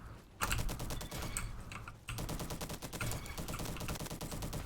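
SM-03 SMG in Roblox Bad Business, firing in rapid bursts, two long strings of dense, close shots split by a brief pause, with mechanical clatter throughout.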